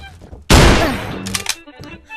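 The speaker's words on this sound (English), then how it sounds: "Oh, like a shotgun. Gotta load the shells in." A single loud, close shotgun blast in a VR shooting game, a sharp boom that rings and decays, followed by a few quick mechanical clicks and clacks of the weapon.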